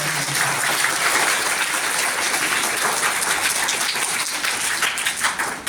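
Sustained applause from an audience at an annual prize-giving ceremony at Jamia Shah Waliullah, greeting a girl who took second position; dense, even clapping holds steady throughout.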